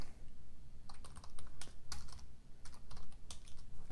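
Irregular bursts of clicky keystrokes on a computer keyboard, close and fairly quiet, with short pauses between clusters of typing.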